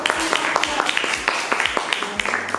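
A class applauds in a school lesson, a steady patter of many hands clapping at close range for a couple of seconds.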